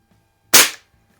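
A single sharp, loud crack from a rebuilt Sheridan F series CO2 Blue Streak air rifle, fired outdoors close by, decays quickly into near silence.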